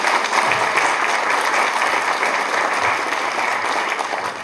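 Steady, dense applause from the audience at a railway workers' union lecture fills the hall without a break, close and loud throughout.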